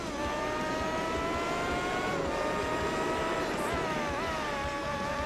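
A race car engine in Gran Turismo 4 whines loudly and steadily through gear changes, a dense, buzzing roar with brief pitch dips as it shifts, filling the whole stretch.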